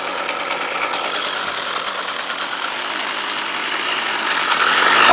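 Small two-stroke engine of a Stihl string trimmer running at idle after starting, a close, steady buzzing rattle that grows slightly louder toward the end, with no talking.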